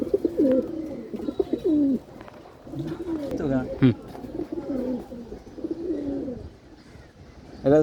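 Pigeons cooing in a home loft where several breeds are kept, including silver males and a black-necked hen, with repeated low throaty coos overlapping close by and little pause between them.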